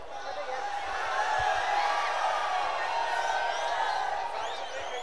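Crowd at an outdoor dahi handi festival match, a steady, dense roar of cheering and shouting voices sustained throughout, loud and continuous with no single voice standing out.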